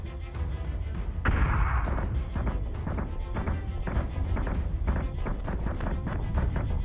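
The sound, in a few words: missile explosion in the video game Deadlock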